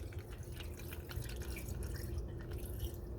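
Steady thin detergent engine flush trickling and dripping into a 2018 Nissan NV 2500 4.0L engine, a continuous wet pouring sound with a low hum underneath, no voices.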